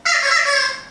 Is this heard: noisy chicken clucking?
yes